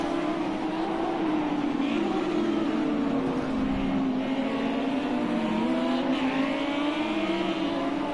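Onboard engine of a Lamborghini Super Trofeo race car at Imola, a loud continuous howl rising and falling as it climbs through the gears, with layered harmonics and steady wind noise.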